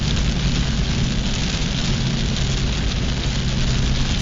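Rain falls on a car driving along a hilly mountain road, a constant dense broadband hiss mixed with low road and engine rumble, steady and loud throughout.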